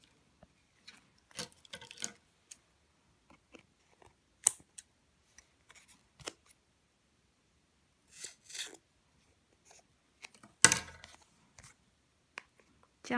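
Scissors snip paper for a handmade card in short, quiet clicks and rustles, scattered irregularly across near-silence with a few louder cuts.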